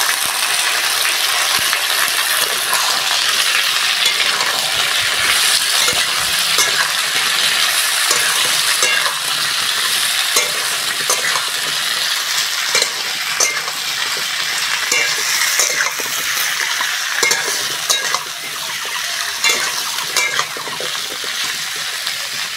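Kohlrabi and potato fry with onion and panch phoron in hot oil, a loud, continuous sizzle and crackle broken by occasional scrapes and clinks of stirring, close up and without talk.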